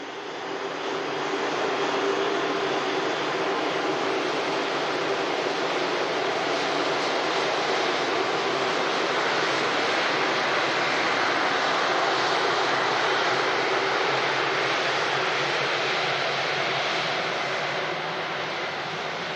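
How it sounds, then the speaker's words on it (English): KLM airliner taxiing out at Manchester Airport, a broad steady engine roar that stays loud and even throughout, heard from a distance with no talking. "KLM on the taxi out"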